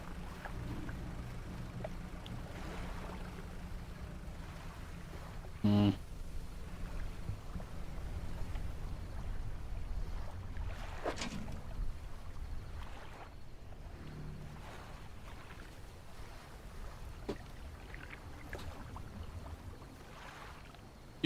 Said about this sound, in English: Sail our little trawler back.